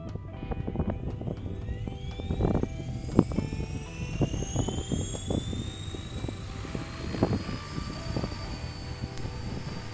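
RC electric helicopter rotor spinning at about half throttle, a steady whirring buzz with rising motor whine and faint rhythmic blade chop, close and moderately loud throughout.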